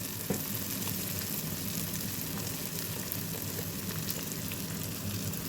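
Onions and spices such as turmeric and chili powder fry in hot oil for a taro stolon curry, giving a steady, close, continuous sizzle with faint crackles and an occasional stir, no voices.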